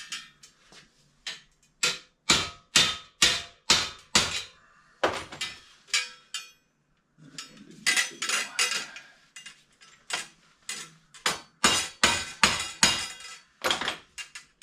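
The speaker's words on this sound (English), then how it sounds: "this one, we're just kind of repounding the rivet a little bit." Hammer blows on a rivet in the rear fender of a 1975 Schwinn Suburban bicycle, ringing metallic strikes in rapid bursts of several hits with short pauses, close and loud, no talking.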